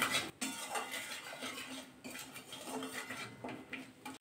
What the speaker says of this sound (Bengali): একটু নাড়াচাড়া করে নেব।